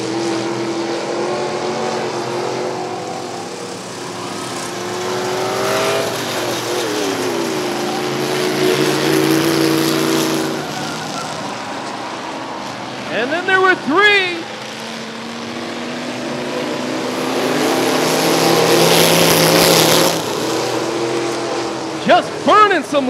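Race car engines roar steadily around the Rockford Speedway track during a trailer race, rising and falling as the cars pass, with an announcer talking over the noise throughout.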